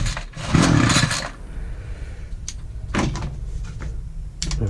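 A hard-starting Titan multi tool with loose parts and worn plug is yanked by its pull cord: a loud rough burst of sputtering, then three shorter scraping pulls spaced apart, the engine never catching.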